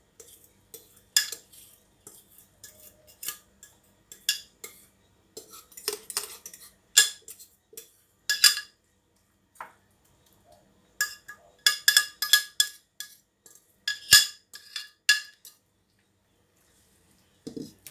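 A utensil scrapes and clinks against a bowl as blended vegetables and flaxseed are mixed into fish for fish balls, with irregular close taps and stirring strokes separated by short pauses.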